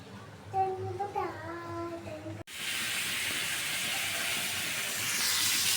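Sliced pointed gourd and potatoes sizzle in hot oil in a pan, a loud, steady hiss that takes over at once after a voice and carries on evenly to the end.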